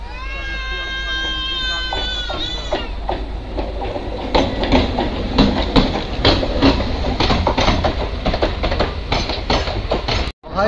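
Kosi Super Express train running on rails on arrival at Gaya Junction, a steady rumble with rhythmic clickety-clack growing louder midway, an infant crying early on and people talking over it.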